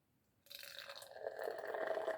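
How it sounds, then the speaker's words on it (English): Guinness Draught stout is poured into a glass after a quiet start, a close liquid gurgle and splash that grows fuller as the glass fills. "So you got to pour this into a glass."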